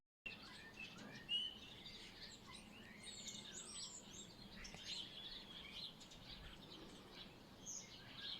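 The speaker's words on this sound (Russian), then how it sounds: "Слышно, как поют птицы?" Several birds chirp and sing at a distance, scattered tweets and trills over a quiet outdoor background.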